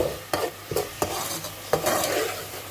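Browned onions in a pan with a splash of water, frying with a bright close sizzle punctuated by four distinct scraping stirs of a spatula.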